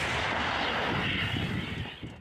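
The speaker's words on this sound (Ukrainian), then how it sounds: "Постріл!" A loud, sustained roar of gunfire or artillery fills the clip, dense and rumbling, tapering off slightly toward the end.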